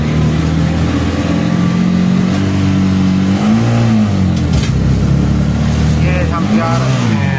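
A car pulls away in first gear and accelerates, its mid-range engine revving up through rising and falling tones, loud and close under continuous talking.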